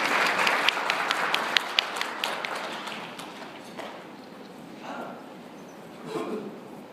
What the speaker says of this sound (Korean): 박수로 맞이해 주십니다